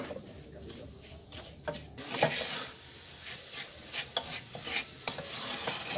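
Coconut and sugar caramelizing in a pan while being stirred, with quiet scraping strokes and a soft sizzle that come in irregular bursts, fairly faint and close, with no talking.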